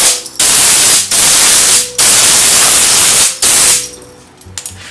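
Compressed air blasts dust out of a laptop's keyboard area during a screen replacement: three long, loud hissing bursts with short gaps between them, then a quieter tail of small clicks.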